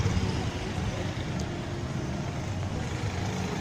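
Street traffic in downtown Siem Reap near Pub Street forms a steady, moderate wash of passing vehicles and road noise with no single standout event.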